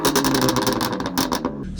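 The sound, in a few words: BMW F80 M3 Competition engine revving through sports exhaust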